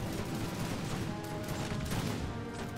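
Rifle gunfire from a Bashi-bazouk unit during a siege battle in a war video game, a continuous dense crackle of volleyed shots over a low rumbling battle din.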